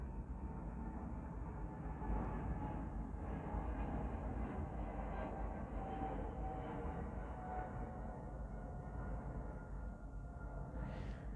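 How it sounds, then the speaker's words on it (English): A low, continuous engine rumble of an airplane passing overhead, steady and fairly faint throughout, with no talking. "Fuck off, plane."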